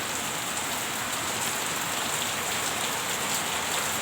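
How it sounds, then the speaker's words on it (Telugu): Sudden unseasonal rain pours from a cloudy, windless sky over farmland, a steady dense hiss of drops hitting the ground, moderately loud and unbroken, with no voices. "ఇప్పుడైతే మళ్ళీ ఈరోజు ఇలా మబ్బు పట్టి సడన్గా వర్షం పడుతుంది."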